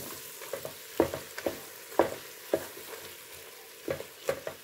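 Onion is stirred into a quick curry frying in a pot, with a low hiss beneath sharp, intermittent scrapes and taps of a spoon against the pot, moderately quiet and close, no speech.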